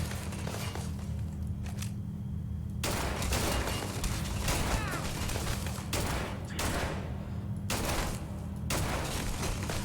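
Rapid bursts of gunfire from a newly tried weapon in Starfield, loud volleys broken by short pauses, with game ambience running underneath.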